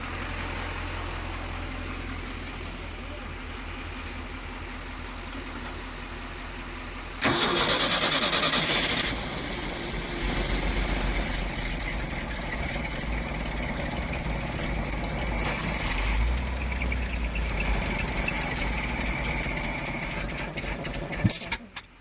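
A 1966 Ford F500 bucket truck sits quietly with a low hum, then its engine cranks and catches abruptly, settling into a loud, rough, steady idle close by that runs to the end.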